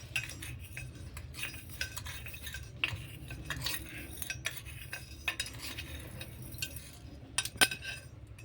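Long beans are snipped and picked from plants on a vegetable farm, giving a quiet series of sharp clicks, snaps and light rustles scattered irregularly over a soft background hum.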